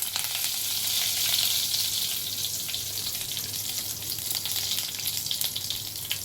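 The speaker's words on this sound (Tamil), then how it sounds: "கொஞ்சமாக கடுகு, கொஞ்சம் சீரகம், 2 சேர்ந்து நல்லா பொரியட்டும்." Mustard and cumin seeds crackle and spatter in hot oil, a steady dense sizzle with scattered sharp pops and a faint low hum underneath, no talking.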